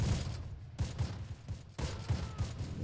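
Massed gunfire pours onto German grenadiers at La Fière Causeway in Close Combat: The Longest Day, a busy, continuous stream of rifle and machine-gun shots in irregular clustered bursts at moderate distance.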